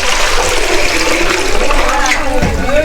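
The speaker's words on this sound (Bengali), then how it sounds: "এই দুধ ঢেলে দিল।" Milk poured into a pan for making rabri in a rabri-making village near Kolkata, a steady, loud splashing stream that runs without pause for about three seconds.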